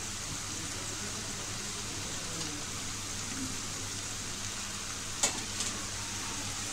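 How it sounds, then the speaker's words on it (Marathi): Raw jackfruit vegetable curry, Malvani style, stirred in a pan with fresh coconut and coriander, a steady soft sizzle running throughout with a couple of brief spoon scrapes near the end. "जसं छान ढवळून घेऊया आपण अशी भाजी"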